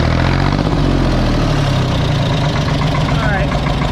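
Ford 3000 tractor diesel engine, a loud close rumble that settles into steady running after starting, throbbing low and continuous for the few seconds.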